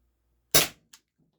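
An Umarex Walther PDP Compact T4E CO2 pistol fires a single sharp, loud shot of a rubber steel ball, followed by a brief fainter click a moment later, with no talking.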